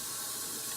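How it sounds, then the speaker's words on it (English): A mop is rinsed under a running hot water tap, giving a steady, close hiss of flowing water with no pauses and no voices. "It's very easy to rinse under some hot water."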